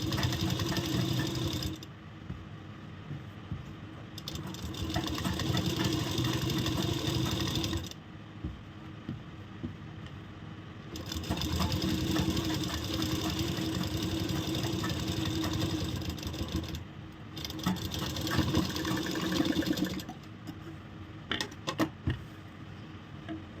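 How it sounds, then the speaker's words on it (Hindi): Sewing machine stitching a ladies' shirt, running in long steady bursts separated by brief stops, close and fairly loud, with no talking. "ऊपर एक सिलाई लगाएंगे।"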